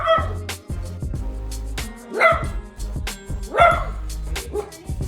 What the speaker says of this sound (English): my dog seems to think that his reflection is another dog and goes nuts